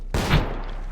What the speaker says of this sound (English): more beanbag shots going off